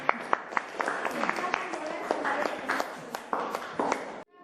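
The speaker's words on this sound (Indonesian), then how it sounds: "Beri tepuk tangan applause dulu buat teman-teman" Students in a school classroom give scattered, uneven claps for a group that has just presented its analysis. Individual sharp hand claps stand out over a hum of voices before the sound cuts off abruptly.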